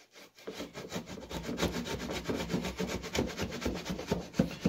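Stanley 71 1/2 router plane cutting fine shavings from a wood dado, giving rapid repeated rasping, scraping strokes close by in an irregular rhythm, with no talking.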